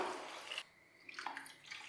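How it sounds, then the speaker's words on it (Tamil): Water poured into a cooking pot of millet rice, a brief splashing rush that cuts off and is followed by softer trickles and drips, faint and close. "இப்போ தண்ணி சேர்த்துக்கலாம்"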